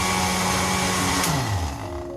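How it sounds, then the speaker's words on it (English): A blender whirs steadily as it blends natural juice with little water, the motor pitch dropping and slowing near the end as the load shifts. "and I will blend this"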